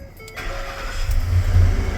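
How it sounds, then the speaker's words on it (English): A car engine cranks over on a newly installed starter, then catches and settles into a rising, steady low rumble. "All right, let's see if it'll turn the engine."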